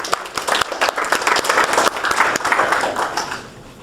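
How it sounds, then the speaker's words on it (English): An audience at a talk or seminar bursts into loud, dense applause, then it fades over the last second. "Give her a round of applause."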